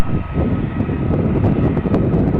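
A Flydubai jet airliner's engines roar steadily as it takes off from runway 30L at Belgrade Airport, a loud, sustained broadband rumble with no pauses.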